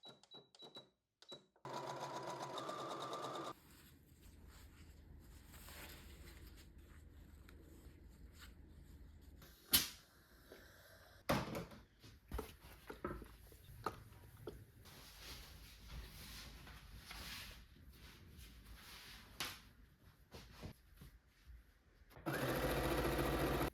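A sewing machine runs a zigzag stitch along the bottom hem edge of a dress, whirring in bursts and stops with clicks and fabric handling in between, close and fairly quiet.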